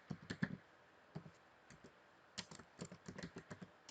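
Typing on a computer keyboard: a quiet, close run of irregular key clicks in short bursts, with a pause before a quicker cluster of keystrokes.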